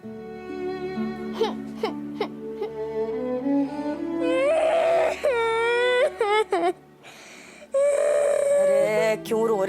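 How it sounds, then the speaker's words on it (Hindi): A girl cries and wails in loud, rising sobs broken by short gasps and whimpers, close and emotional, with brief pauses between bursts. "अरे क्यों रो रही है?"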